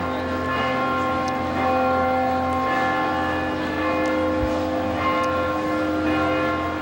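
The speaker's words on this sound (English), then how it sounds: "The tolling of the bells is supposed to suggest that we should be getting going" Church bells toll steadily with sustained, overlapping tones over a continuous background hum, no voices.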